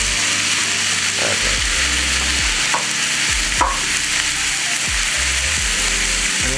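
Leeks frying in a pan with a dense, steady hiss of sizzling oil, broken by repeated scraping strokes of a utensil stirring them, close and loud with no talking.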